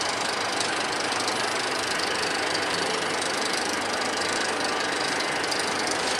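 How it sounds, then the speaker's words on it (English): The Walking Dead roller coaster at Thorpe Park climbs its lift hill with a steady, loud mechanical clatter and rumble that runs unbroken throughout. "Here comes the ride up the track. Lift hill."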